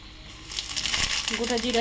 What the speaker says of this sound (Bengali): এই তেলের মধ্যে আমি জিরা ফোড়ন দিয়ে দেবো